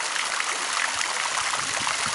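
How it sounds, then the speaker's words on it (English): Several streams from a Fyrefly jet set in pool coping splash steadily into the water, a soft, even, close-up patter with no pauses. "A little bit softer noise, not a real loud jet, but kind of fun."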